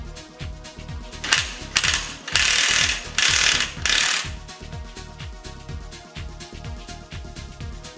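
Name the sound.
ratcheting nut puller loosening Pulsar engine primary gear nut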